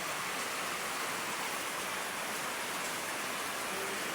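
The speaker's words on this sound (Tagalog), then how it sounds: "Lakas ng ulan, no?" Heavy rain pours down in a steady, dense roar of broadband hiss with no breaks, close and constant throughout, with no voices over it.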